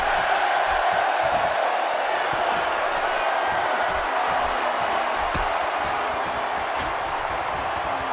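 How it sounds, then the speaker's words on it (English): A wrestling arena crowd in Austin, Texas, heard in a video game, gives off a steady, broad roar of cheering. It runs continuously at moderate volume, with a few sharp impacts and faint talk underneath. "The crowd here in Austin,"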